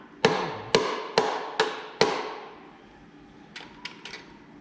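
Hammer blows on tight hardware of a failed Small Block Chevy engine: five loud ringing metallic strikes in a steady rhythm, each decaying, then three fainter quick taps after a pause.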